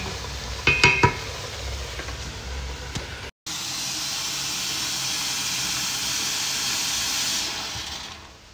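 Water poured into a hot cooking pan of chicken with tomato sauce and fish sauce, giving a strong, steady hiss and sizzle after a few clinks from a utensil.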